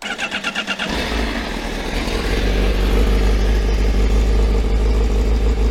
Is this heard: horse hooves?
no